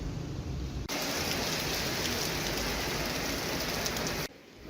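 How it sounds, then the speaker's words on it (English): Steady rain pours down outdoors on a street in Rome, a dense, even hiss that starts abruptly and cuts off near the end, loud and close with no voices. "Back out into the rain."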